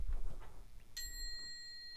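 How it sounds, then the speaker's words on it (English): A Tibetan singing bowl is struck once indoors, giving a bright metallic ring that sustains and slowly fades, preceded by soft handling thumps and low rustling. "Tibetan singing bowl."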